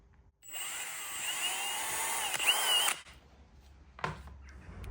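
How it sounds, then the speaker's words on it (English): A power drill whines steadily at high speed for about two and a half seconds while drilling a VW Golf MK6 key, then cuts off, leaving a quiet clunk and faint room noise. "So now I need to hold that together and then drill it."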